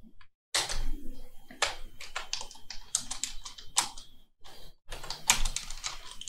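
Typing on a computer keyboard while building a WordPress website: irregular bursts of crisp, close key clicks with short pauses between them and no talk.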